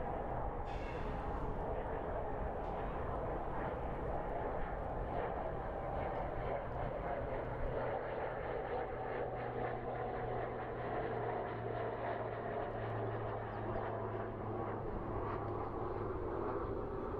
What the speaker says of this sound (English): This appears to be a smaller plane.